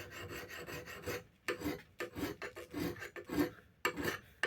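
A file rasps in repeated strokes across a vintage Rixford axe head of New England steel, each pass a short scraping burst separated by brief pauses, close and fairly quiet.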